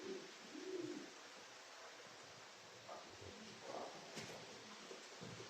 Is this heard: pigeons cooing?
yes